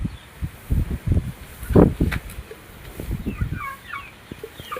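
Hens and young chicks of a fighting-bird breed clucking and scratching close by in short irregular bursts, with soft rustling and a few faint high cheeps between the calls.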